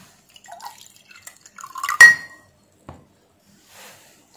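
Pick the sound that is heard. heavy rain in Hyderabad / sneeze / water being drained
water being drained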